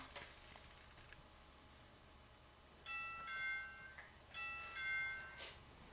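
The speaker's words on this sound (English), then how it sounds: "I want you to press the doorbell 500 times." A household doorbell pressed repeatedly at Christmas: two short chime bursts, each ringing about a second and a half, faint and somewhat distant over a quiet room hiss.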